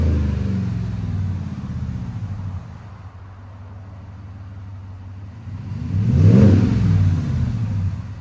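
A pickup truck fitted with a Flowmaster Signature Series exhaust idles with a low rumble, dips quieter, then revs up sharply into a loud throaty roar before easing back.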